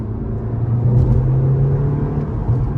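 The turbocharged engine of a 2016 VW Golf R with a 6-speed manual pulls hard, a deep steady rumble from inside the cabin swelling slightly as it accelerates.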